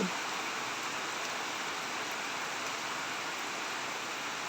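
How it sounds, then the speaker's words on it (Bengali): Heavy rain pours down on a wet morning as a dense, steady hiss that stays even throughout, with no voices. "বৃষ্টি পড়তেই আছে একদম ঝাড় বৃষ্টি"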